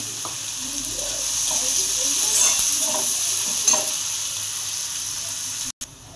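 Onion and nigella seeds frying in hot oil in a wok: a loud, continuous sizzle with stirring scrapes throughout, broken by a brief cut near the end.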